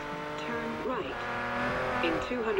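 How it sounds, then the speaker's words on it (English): Car engine in the Forza Horizon racing game, a sustained revving drone with pitch sweeps as the car accelerates and shifts, steady and fairly loud, with no talk over it. "Listen to the beautiful sound of the car."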